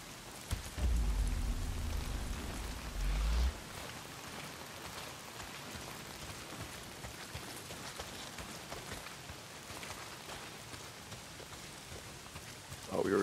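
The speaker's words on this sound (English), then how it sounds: "Well, not if it's pissing down rain." Heavy rain falls in the open-world video game Days Gone, a dense steady hiss of downpour with a loud low rumble near the start, continuing evenly to the end without talk.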